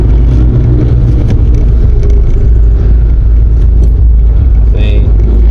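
A manual transmission car pulls away in first gear: a loud, steady low engine hum and cabin rumble continue throughout while a person talks over it.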